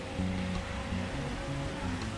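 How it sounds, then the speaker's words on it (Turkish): Fountain jets splash steadily into a pool at the White Pavilion (Beyaz Köşk) in Emirgan Grove, a continuous broadband wash of falling water with a low hum and no talk. "Önünde bir de havuzu var. Görüyorsunuz fışkiyeleriyle beraber."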